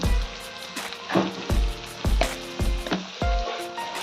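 Bean seeds fry in tempered oil with turmeric and salt, sizzling in bursts between repeated heavy spatula knocks against the pan, close and even.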